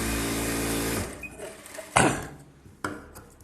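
A sewing machine stitches the edge of a blouse in a brief close whirring run that stops after about a second, followed by a few sharp knocks and light handling clatter.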